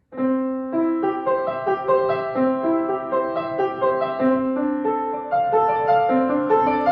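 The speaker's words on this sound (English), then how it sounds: "a good example of what we now call rubato playing" Solo piano plays a flowing melody over sustained chords, its tempo stretching and relaxing freely from phrase to phrase, close and clear with no voices.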